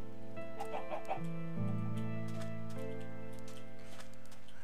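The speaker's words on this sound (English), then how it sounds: "Here, chicken, chicken, chicken, chicken, chicken!" Chickens cluck close by in a steady, continuous burst of calls, with no talk.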